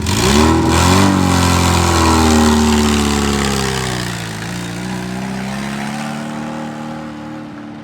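A Tofaş Kartal SLX station wagon's engine revs hard, then settles back toward a lower drone as the revs fall, loud and close with no talking.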